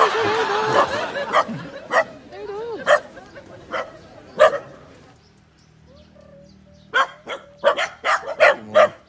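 Several dogs bark in a group on a mountain trail, sharp yips and barks coming in irregular bursts with a quieter pause in the middle, while a person speaks nearby and birds chirp faintly.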